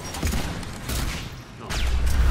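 Rocket launchers fire in the shooter Mass Effect 3: a noisy burst of explosive blasts and rumbling booms, loud and close, with a whooshing sweep near the end.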